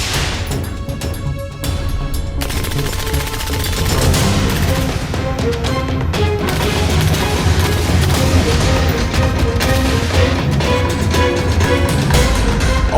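Dense gunfire from commandos firing on gunmen during a staged terrorist-attack display at the National Day Parade 2017, rapid overlapping shots and bangs rolling continuously and loudly for the whole stretch.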